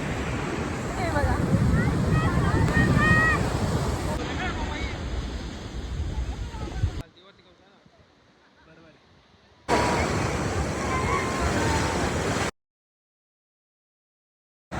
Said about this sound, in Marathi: समुद्र एकदम चांगला खवळलेला आहे, खूप लाटा येत आहे